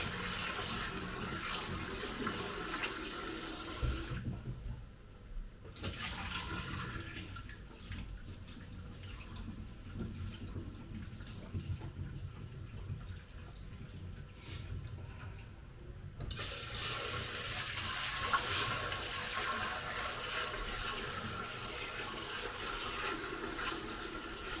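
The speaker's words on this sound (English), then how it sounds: "strain it, or just pour the water out. Wash it again, just until the water is" Tap water running over chickpeas being rinsed and drained in a kitchen, a steady splashing flow that cuts out in the middle and then comes back, close and moderately loud.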